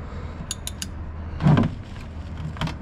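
A 17mm socket ratchet works on the oil drain plug of a 2023 Kia Forte GT, with a few quick ratcheting clicks, then a strained creaking turn as the tight plug gives, over a steady low hum.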